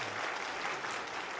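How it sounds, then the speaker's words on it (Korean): Soft, even applause from a Sunday church congregation thanks the departing choir conductor, a faint, distant patter of many hands throughout the short stretch with no speech. "그동안 수고한 우리 정욱진 지휘자님께 우리 한번 감사의 박수를 하겠습니다"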